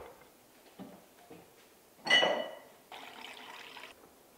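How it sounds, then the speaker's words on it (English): A cup is filled with water in a morning kitchen: a brief gurgling pour with a bright glassy ring, preceded by faint handling clicks and followed by a softer trickling rush. "So let's get a cup of water."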